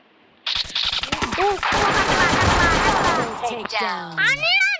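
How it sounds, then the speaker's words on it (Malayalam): Gunfire in the Free Fire video game: rapid bursts of automatic shots and a sustained volley close up, interleaved with game sound effects and a voice speaking over it. "പുറകിൽ നിന്ന് എവിടുന്നാണ് വെടി വെക്കുന്നതെന്ന് എനിക്ക് അറിഞ്ഞുകൂടാ"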